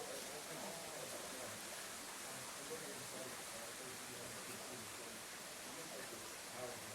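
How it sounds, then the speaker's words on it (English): Continuous rushing water, a dense steady wash of sound like a nearby waterfall or stream, with no breaks. "Just hearing water, you know, is calming, period."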